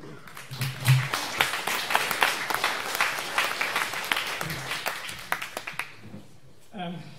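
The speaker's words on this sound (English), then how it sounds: "let's welcome to this stage with warm SVVR applause" Audience applause at a virtual reality meetup, with dense clapping and a few whoops and voices mixed in, tapering off toward the end.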